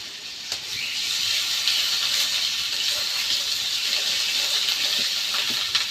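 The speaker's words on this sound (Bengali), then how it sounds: "আদাটা আমি একটু ভেজে নিব" Ginger paste sizzling in a hot pan with potatoes and chillies for a pangas fish curry, giving a steady, even hiss that holds at a constant level throughout.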